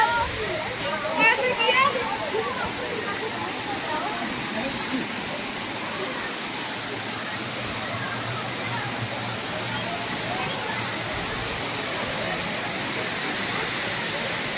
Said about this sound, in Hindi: ये देखिए कितनी अच्छे अच्छे पानी है यहाँ पे, हल्के हल्के छींटे भी आ रहे हैं